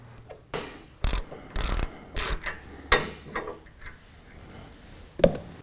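A hand ratchet loosens bolts low on a motor and carriage assembly, sounding as several short, close bursts of rapid pawl clicking separated by pauses and ending in a sharp knock.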